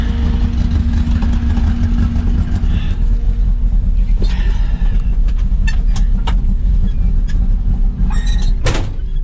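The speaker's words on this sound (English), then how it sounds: "Brake off. Pick the gear. Oh, and away we roll ever so slowly." An old Ford grain truck idles with a steady low engine rumble while slowly rolling away in gear, with a few faint creaks and clunks over the constant drone.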